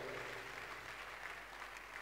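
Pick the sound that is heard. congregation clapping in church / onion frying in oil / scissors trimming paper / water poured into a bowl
congregation clapping in church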